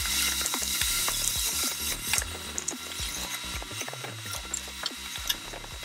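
A ratchet works loose the screws holding the controller on a SUPER73 Z1 e-bike, giving a steady run of close, small metallic clicks and ticks with no talking.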